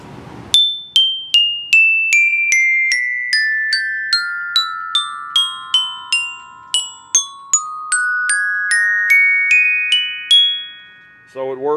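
Bright metal orchestra bells made from a glockenspiel are struck with mallets, about twenty clear ringing notes descending and then rising in an even, close, resonant run before a brief voice at the end.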